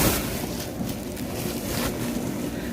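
Chili peppers washed under a steady, close rush of water, a continuous broadband hiss with little variation and no talking.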